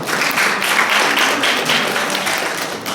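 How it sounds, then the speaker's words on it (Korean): A church congregation applauds during a Sunday worship service, a dense, loud wash of many clapping hands that stays steady throughout. "박수 한번 해주세요"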